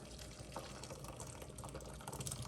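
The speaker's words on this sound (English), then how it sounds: "I'm just gonna very gently pour my juice through the strainer." Elderberry juice pours steadily through a strainer with a gurgling, splashing trickle, close by and continuous for a couple of seconds.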